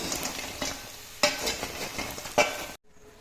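Chicken frying with butter, chilli and onion as it is stirred, a loud close sizzle broken by rhythmic scraping strokes of a spoon, then cutting off abruptly into near silence.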